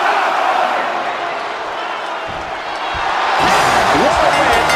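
Wrestling arena crowd in the WWE 2K25 video game, a continuous roaring crowd that swells louder toward the end, with thuds and a voice talking over it.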